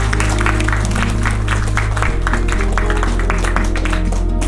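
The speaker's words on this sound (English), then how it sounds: "So please clap for yourself." A seminar audience applauds in a hall, a dense continuous patter of many hands clapping at once, loud and sustained over a low hum.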